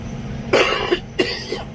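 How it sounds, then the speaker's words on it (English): A person coughs twice, close and loud, with short harsh bursts about half a second apart over a quiet indoor background. "still got a bit of a cough going on"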